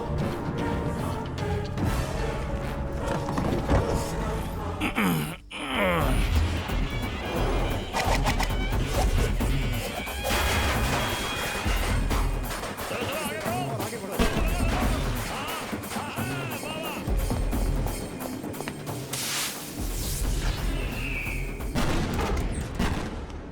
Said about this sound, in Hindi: पटाखे की आवाज है।